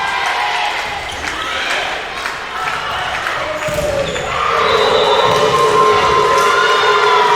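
A college volleyball crowd roars and cheers at match point in a gym, Tabor College against Friends University, sustained loud crowd noise that swells louder midway, with voices and shouts mixed in.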